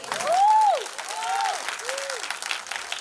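Audience at a movie screening at a Cinepolis cinema claps steadily throughout, while a voice makes several rising and falling whoops or calls over the applause.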